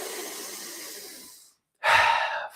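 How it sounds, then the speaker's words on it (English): Deep breathwork breathing, a long airy inhale lasting over a second, a short pause, then a forceful breathy exhale through the mouth, close and fairly loud. "In through the belly, then the chest. Exhale through your mouth. This is one continuous breathing motion."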